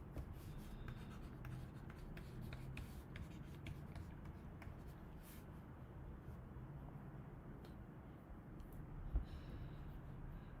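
A pen scratches across paper in quick strokes as an economics utility equation is written out, a faint, close, continuous scribbling that runs alone with no talking.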